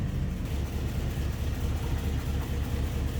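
A 1949 Cadillac Series 61 Sedanette with the 331 overhead-valve V8 idles nearby in a steady, even low rumble, with no other sounds.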